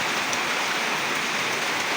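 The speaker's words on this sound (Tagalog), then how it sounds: "Ulan, malakas ang ulan." Heavy rain along a highway: a dense, steady roar of pouring rain, loud and unbroken throughout, with no voices.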